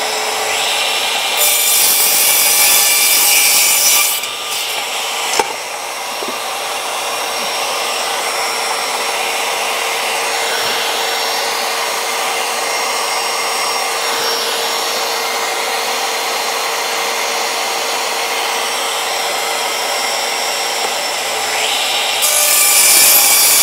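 A power saw cuts timber for a native bee box, making a loud continuous whining roar close by that runs almost unbroken, with brief changes in tone as the blade works through the wood.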